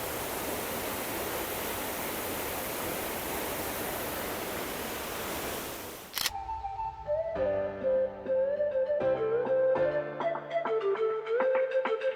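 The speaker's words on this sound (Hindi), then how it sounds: "तुम लोग देख सकते हो यहीं से कितना खूबसूरत दिख रहा है ये झरना" A waterfall at Mainpat in Chhattisgarh roars as a dense, steady rush for about six seconds, then cuts off abruptly and gives way to music.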